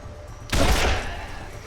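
An explosion in the video game Wasteland 2 erupts suddenly as a loud, close blast with a burst of crackling, then slowly fades into a rumbling tail.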